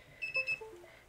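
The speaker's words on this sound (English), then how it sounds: "Beeps, so the connection works." A quick pair of high electronic beeps from an Otto DIY robot's Nano board as it connects over USB, sounding close and clean against a quiet room.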